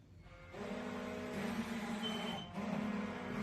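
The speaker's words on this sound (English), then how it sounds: "We got alarms going off." Electronic alarms sound together in a steady, continuous chorus of overlapping tones that stays loud from start to finish, with a brief dip near the middle. No one speaks.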